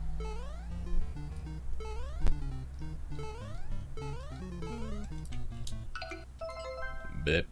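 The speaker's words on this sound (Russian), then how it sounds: "Сообщение приходит на телефон." Phone message ringtone from the NES Remix video game on Wii U, heard as a run of bright electronic melodic tones and chirps over a steady low game-music hum, with a short jingle near the end.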